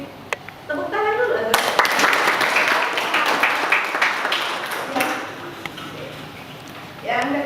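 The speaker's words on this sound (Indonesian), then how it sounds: "Tepuk tangan dulu." Applause from a classroom of students during a lesson, a broad burst of clapping that starts sharply and holds for several seconds, with a little chatter before and after.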